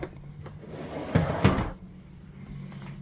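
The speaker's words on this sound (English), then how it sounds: "See how it closes slow? It's a no slam drawer." A soft-close drawer in the dinette of a 2024 Alta 3150KBH RV slides shut with a couple of muted thuds and a gentle settling, fairly quiet and close.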